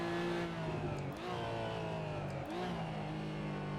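A Porsche GT4 Clubsport race car engine holds a steady high-pitched drone at the rev limiter during a Brands Hatch sim race, with two brief dips where the engine cuts before it climbs again, loud and continuous.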